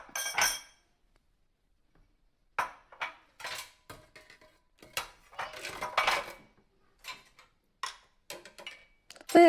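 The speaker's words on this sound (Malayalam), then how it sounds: "നമുക്ക് ഓരോ പീസസ് ആയിട്ട് കട്ട് ചെയ്തെടുക്കാം." A knife cuts Kerala vettu cake dough into pieces, making sparse, sharp taps and clicks against a board or dish. The strikes come irregularly, with quiet gaps between them.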